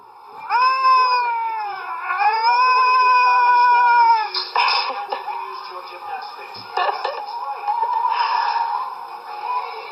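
A cat gives two long, loud, drawn-out meows close by, each wavering in pitch, followed by scattered scratchy rustling and clattering noises for the rest of the clip.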